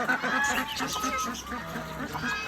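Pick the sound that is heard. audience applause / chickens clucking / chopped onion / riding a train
chickens clucking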